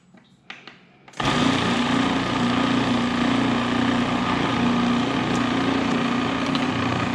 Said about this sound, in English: I'm going to start chopping the spinach pretty fine now with my food processor.